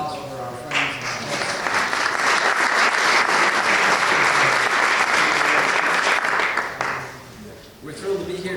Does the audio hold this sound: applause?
yes